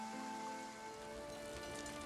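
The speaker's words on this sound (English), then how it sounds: "And now it's raining." Rain in the video game Foundation, a soft, steady patter of rainfall over a constant ambient hum, quiet and even throughout without any talking.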